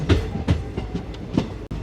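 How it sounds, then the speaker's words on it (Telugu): The Vijayawada–Hubli Amaravati Express pulls into Palakollu station, its wheels beating out a brisk, close clickety-clack of sharp rhythmic knocks over a low rolling rumble. "మాటల్లోనే మన ట్రైన్ పాలకొల్లుకి అయితే చేరుకుంది"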